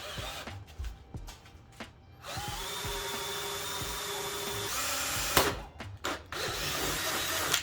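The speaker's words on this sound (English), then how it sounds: "go ahead and drill through" A power drill whirs steadily through PVC pipe for a couple of seconds, surrounded by short clicks and handling noises, close up.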